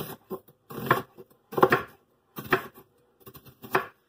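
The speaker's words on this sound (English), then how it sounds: "Oh, onion. I've got onion too. And we're going to chop that this way." A knife chops an onion on a board in a home kitchen, with about five sharp, close, evenly spaced cutting thuds separated by brief silences.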